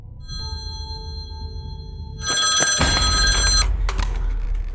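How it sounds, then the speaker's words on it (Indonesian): A home landline telephone rings in a horror film scene, a faint electronic trill at first, then a loud, close, buzzing ring that breaks off and briefly returns against a low background rumble. "terdengar lagi suara dering, kali ini berasal dari telepon rumah"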